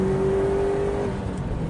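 A tuned car accelerates hard in fourth gear from 3,000 rpm, a loud, steady engine drone with a whining tone that holds briefly then eases, heard from inside and without talk.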